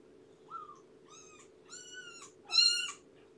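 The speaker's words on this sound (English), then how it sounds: "louder meows get mama to come quicker" A young kitten meows for its mother in a quiet room, three or four rising, insistent cries that grow louder and longer, the last one the loudest, with a low steady hum underneath.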